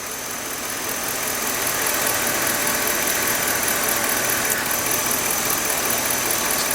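The engine of a 2005 Chevrolet Suburban runs steadily during a power steering and hydroboost check, a loud, unbroken idle with a broad hiss and faint whine and no talk.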